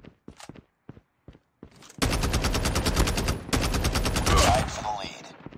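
Automatic gunfire in the mobile shooter Call of Duty Mobile: a few quick single shots come first, then a sustained, loud rapid burst of rifle fire lasting several seconds.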